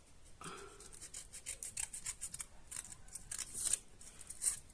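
Scissors snip through flower stems while a bouquet is trimmed, giving a quick series of faint, crisp cuts and rustles with no talking.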